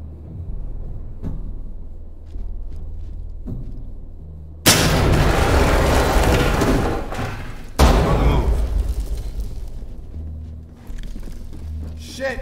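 In the tactical shooter Ready or Not, a grenade goes off indoors with a loud, close blast and a long roaring tail, followed a few seconds later by a second heavy detonation, with faint voices around.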